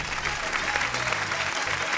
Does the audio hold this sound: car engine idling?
no